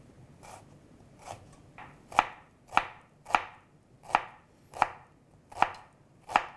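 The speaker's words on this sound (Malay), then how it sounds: "Jadi kita cincang jugalah bawang merah ni." A knife chops shallots on a cutting board, about ten crisp, evenly spaced strikes that grow firmer and louder after the first few, close up and with no voices.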